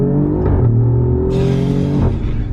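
Alfa Romeo Giulia Quadrifoglio accelerating hard, its engine roaring loudly and steadily with the pitch climbing through the revs, close and with no voices.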